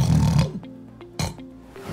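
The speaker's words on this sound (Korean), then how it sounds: "귀가 아플 만큼 큰 소리로 코를 골다가" A man snores very loudly in sleep, with a heavy rasping snore at the start, a quieter stretch, then another coarse snort-like breath.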